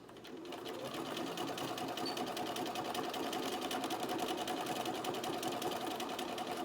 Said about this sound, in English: now you just stitch all the way down until you get to the corner of the mask